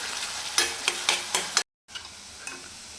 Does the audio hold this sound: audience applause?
no